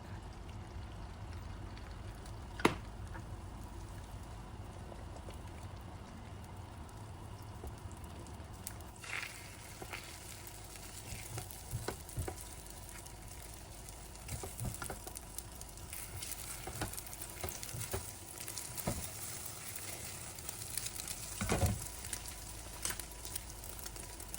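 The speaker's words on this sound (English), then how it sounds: "And now we're going to cook our egg first." An egg frying in a tablespoon of olive oil in a pan gives a faint, steady sizzle throughout, with a few soft clicks and taps scattered across it.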